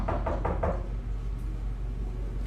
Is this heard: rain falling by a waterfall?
no